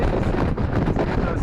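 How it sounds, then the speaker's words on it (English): Strong wind gusts buffet the microphone outdoors near a boat during a storm, a loud continuous low rumbling roar with uneven surges filling the whole stretch. "Sorry about the wind noise"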